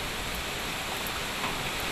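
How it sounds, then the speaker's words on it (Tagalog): Heavy rain and strong wind before Typhoon Ulysses makes landfall, a dense, constant roar of pouring rain with gusty wind noise, loud and unbroken, with no voices. "Tapos sobrang lakas din ng ulan."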